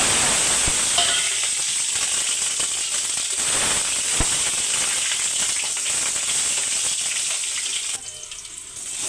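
Cumin seeds fry in hot oil in a home kitchen, giving a loud, steady sizzle with crackling spatter close by that drops sharply near the end.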